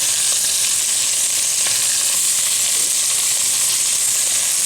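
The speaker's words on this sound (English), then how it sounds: "We're just browning it slightly." Chicken pieces brown in hot bacon fat in a pan, giving a steady, close, even sizzle and crackle with no break.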